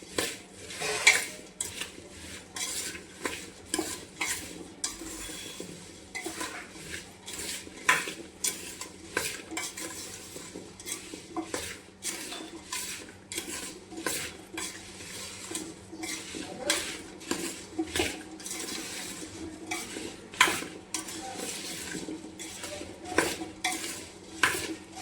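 A spoon stirs salt into a sweet, oil-free homemade pickle in a metal pot, with repeated scraping clinks and taps against the metal in an irregular rhythm. Fairly quiet and close, with no talking.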